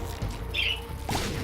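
Pet birds squawking indoors, a brief shrill squawk followed by a couple of short softer calls, close and fairly loud over a constant low background hum.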